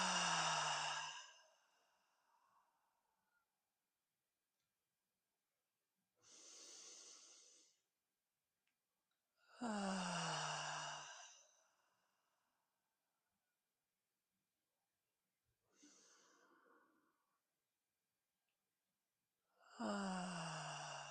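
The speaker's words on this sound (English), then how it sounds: "We will start breathing in through the nose and out through the mouth." Deep, slow breaths drawn in through the nose and let out through the mouth, sighing exhalations in a steady rhythm of four or five breaths separated by long silent pauses, close and clear with no talking.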